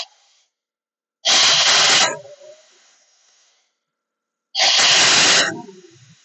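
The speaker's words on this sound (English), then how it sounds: "And we have a Quincy vertical air compressor." A 2004 Quincy QT-5 splash-lubricated reciprocating vertical air compressor releases air from its valve in two loud, close hissing bursts, each about a second long, fading into a softer trailing hiss with quiet gaps between.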